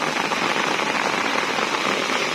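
Steady rain falls in the late morning at a village home in Ban Kok Kok, a dense, even hiss of drops that runs without a break and without voices.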